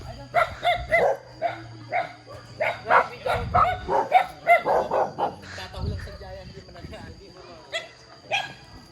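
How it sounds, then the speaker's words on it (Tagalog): Many dogs bark in Tanay, Rizal, with repeated sharp barks and yips overlapping in quick bursts close by. People talk at the same time. "Ang daming aso guys, oh."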